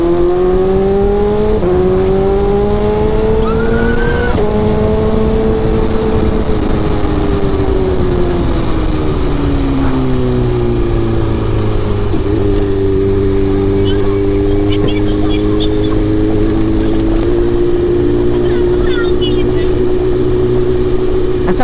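A BMW big bike ridden as a motorcycle taxi, its engine droning loud and close with gradual pitch rises and falls as it changes speed, with constant wind rush.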